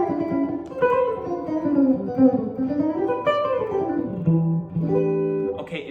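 Guitar notes picked with a very light grip and a hard attack, ringing out one after another in a melodic line, close and fairly loud with no talking.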